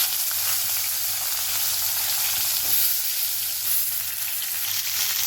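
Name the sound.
brinjal (eggplant) frying in oil with mustard seeds and chana dal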